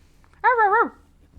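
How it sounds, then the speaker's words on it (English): A single wavering dog whine or howl from the video game Before Your Eyes, lasting about half a second and heard close and clear with no talk around it. "It's a dog."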